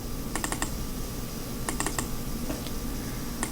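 Steady typing on a computer keyboard while entering data into a spreadsheet cell, with clusters of quick clicking keystrokes in short bursts over a constant room hum.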